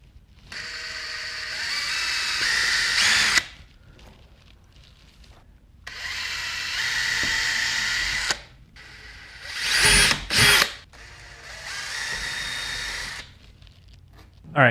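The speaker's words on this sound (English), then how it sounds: "I'm about to drill 4 holes across the back of my Corvette." Power drill boring small pilot holes through the rear body panel of a Corvette C6, three loud sustained whining bursts of several seconds each, with a short stuttering burst between, close up and alone without talk.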